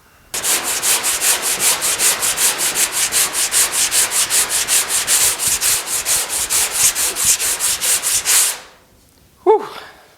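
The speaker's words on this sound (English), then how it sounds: "I'm going to keep sanding this" Steady rhythmic hand sanding of body filler on a Pontiac GTO car fender, quick back-and-forth strokes rasping continuously for about eight seconds, then stopping, followed by a brief faint knock.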